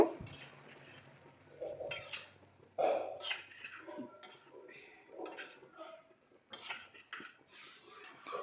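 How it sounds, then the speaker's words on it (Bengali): Mixed winter vegetables stirred together with spices in a pan, a spoon clinking and scraping against metal in uneven bursts with quiet pauses between, close and fairly soft, with faint background noise. "এবার মশলার সাথে সবজিটা খুব ভালো করে মিশিয়ে নেব"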